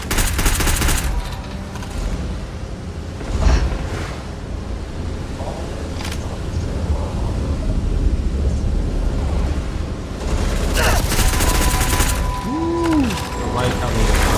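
Dense sci-fi gunfire in Starfield crackles in sustained bursts, loud and close, with a voice talking over the shooting.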